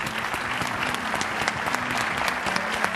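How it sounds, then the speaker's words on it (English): A symposium audience gives a standing round of applause for the master of ceremonies at a closing speech, dense, even clapping filling the room without pause for the whole stretch. "give me a real strong round of applause for our MC, Andy Sachs"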